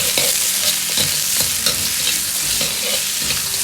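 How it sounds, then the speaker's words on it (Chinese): Scallion, ginger and garlic stir-fry in a hot wok alongside braised pork trotters, with steady loud sizzling and repeated scraping strokes of a spatula throughout, no voices. "倒入葱姜蒜，煸炒出香味。"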